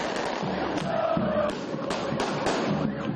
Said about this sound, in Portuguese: Fogos de artifício, sinalizadores e muito barulho.